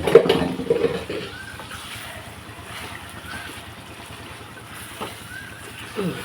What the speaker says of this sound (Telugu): కొంచెం ఇలా కడిగేసి వాటర్ వేసేస్తాను